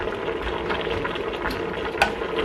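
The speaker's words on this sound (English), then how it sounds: "so it's been simmering for a while" A pot of meat simmering on a stovetop during large-batch meal prep gives off a steady, soft bubbling and gurgling hiss, with a faint clink near the end and no voices.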